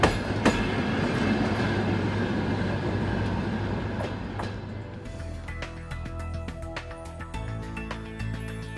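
A train rolls past on the rails with a steady low rumble and a rhythmic clickety-clack of wheels over joints. Metallic clanks and squeals grow sharper toward the end, with no talking.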